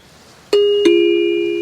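A house doorbell gives a loud, close two-tone ding-dong, two struck notes whose second tone rings on and slowly fades, following a near-silent room.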